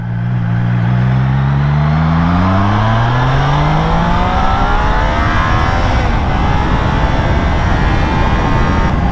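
A Triumph Trident motorcycle accelerates hard in fourth gear on country lanes, its engine note climbing steadily through a loud, sustained pull with heavy wind roar and no talking.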